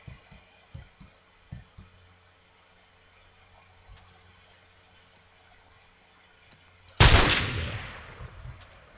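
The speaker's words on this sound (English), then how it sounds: "Because I need to test this gun out." A gun from the Flans Mod fires in Minecraft, a sudden loud burst of blast noise that tails off over a couple of seconds, preceded by a run of soft clicking taps and near silence.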